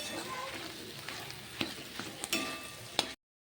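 Potato dosa filling being mixed in a hot pan, a soft sizzle under a few sharp scrapes and taps of a spoon against the pan, close and moderately loud.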